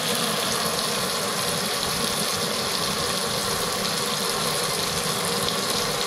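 Water gushes and splashes steadily into a pot, a continuous pouring rush with a low hum underneath.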